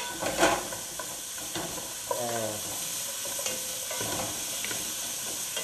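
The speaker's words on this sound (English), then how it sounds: "keep these vegetables moving around in the pot so we don't burn any" Vegetables for bean soup sauté in a pot over medium-high heat, a steady close hiss and sizzle broken by occasional scraping stirs and a soft clink of utensil on metal.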